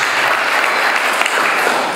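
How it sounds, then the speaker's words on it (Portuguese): A church congregation applauds during a Portuguese-language communion service, producing a dense, steady wash of many hands clapping close and loud, with no break for its full length. "Vamos aplaudir o Senhor, querido, por eles."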